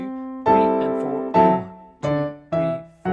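A piano plays a melody punctuated by short, struck chords in a steady rhythm, each note ringing clearly with no voice over it.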